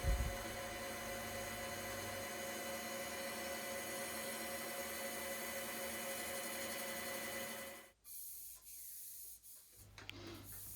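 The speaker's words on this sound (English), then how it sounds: "I use a bit of 320 grade Abranet cloth to polish up the sides" 320 grade Abranet cloth rubs against a metal exhaust cone as it is polished, a steady, quiet, hissing scrape that runs for several seconds and then stops, followed by a few light handling sounds.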